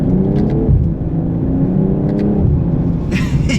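Engine note of a 2022 BMW M240i xDrive, a low, throaty inline-six hum played through the Active Sound system inside the cabin, steady with small rises and dips, with a few faint clicks and a brief brighter burst near the end.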